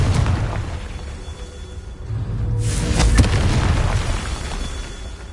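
A Confringo fire spell bursts in Hogwarts Legacy with a single loud, deep blast over a dense, continuous roar of background noise, followed by a lingering rumble.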